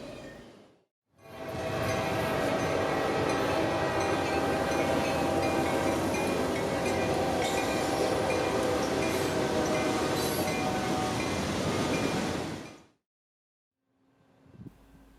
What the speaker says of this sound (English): The train in question being A764, a shuttle run between the giant Thomas Rice Yard in Waycross,